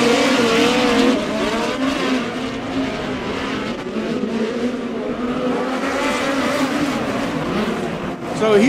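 A midget race car of the POWRi West Midget League runs laps at Airport Raceway, its engine droning and rising and falling in pitch as it passes, loud and continuous, with an announcer talking over it.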